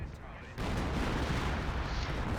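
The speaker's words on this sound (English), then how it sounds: "right now, artillery is just making life miserable for the Germans" Artillery fire in the Company of Heroes game, shells pounding German positions: after a brief quieter lead-in, a heavy, continuous barrage of booming impacts and rumble rolls in and holds loud to the end.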